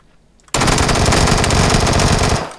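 Sustained automatic gunfire from the player's weapon in a shooter video game: one loud, continuous burst of rapid shots lasting about two seconds after a brief quiet start, with no talking.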